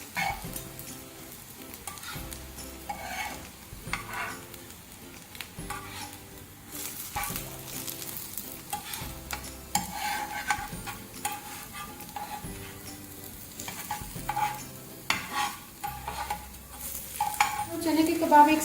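Potato and chickpea kebabs sizzle steadily in a hot pan while a spatula turns them, with recurring scraping and stirring taps over a continuous frying hiss.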